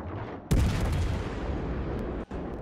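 Heavy cruiser-style naval guns firing a broadside in a naval combat video game, one sudden loud boom followed by a long rumbling roll, with a brief break near the end before the rumble resumes.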